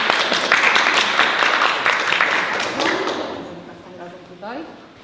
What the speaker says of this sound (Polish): Brawa dla Andrzejka.